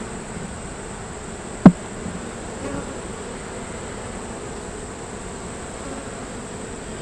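Honeybees drone steadily around an open hive, a low, even buzz that carries through the whole stretch, broken once by a brief sharp tap.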